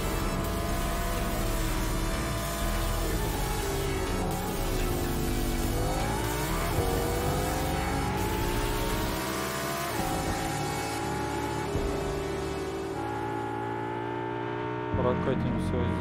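A car drives in the video game Fortnite, its engine droning and revving at a steady level with rising and falling pitch throughout.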